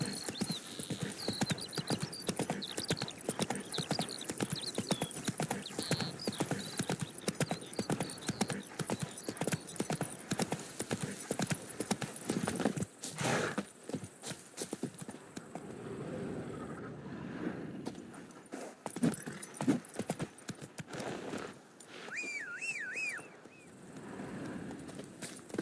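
Horse hooves gallop in The Witcher 3, a fast, steady clip-clop drumming close and loud for most of the stretch, then slowing and breaking up, with a brief whinny near the end.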